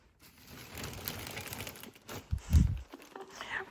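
A heavy plastic shopping bag from an Avrora store crinkles and rustles up close in bursts, with a dull thump partway through and quiet pauses in between.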